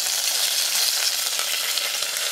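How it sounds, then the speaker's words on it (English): Cardamom, other spices and curry leaves crackle and sizzle steadily in hot oil in a frying pan, a dense, bright hiss with no voices. "Everything is sizzling."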